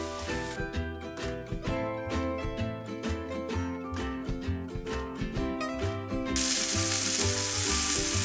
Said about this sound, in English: when the oil is hot, this is when you put in your fish fillet, your marinated fish fillet